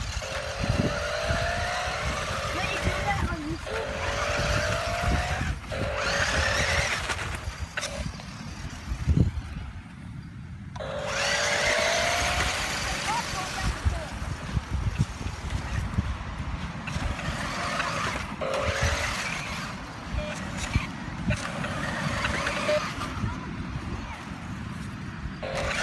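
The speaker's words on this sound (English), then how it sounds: "Driving out here with my RC car." RC car driving over beach sand, a buzzy electric motor whine rising and falling in repeated bursts against wind and surf noise, with short pauses and a thump partway through.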